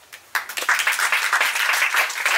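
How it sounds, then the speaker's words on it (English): A conference audience bursts into applause after a quiet start, building into dense, sustained clapping from many hands that continues steadily. "And then can I ask you to applaud?"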